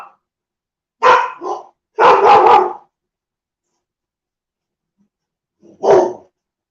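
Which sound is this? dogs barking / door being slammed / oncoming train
dogs barking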